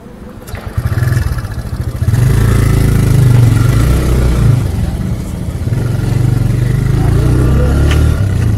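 A 125cc motorcycle engine runs steadily and loud on a mountain road, a close low droning rumble with rising revs that holds throughout, with no talk.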